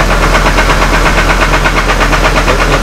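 A Hummer H3 engine running rough just after starting, a steady loud idle with a faint knocking pulse and vibration throughout, no talking.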